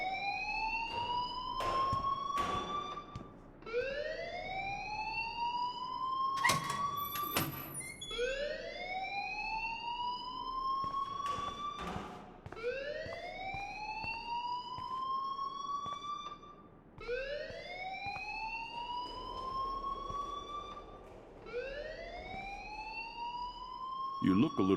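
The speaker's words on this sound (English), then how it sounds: "please turn off that alarm since that's your job" A fire alarm rings in the video game Life Is Strange, loud repeated rising electronic whoops over sharp clattering hits, continuing throughout the scene.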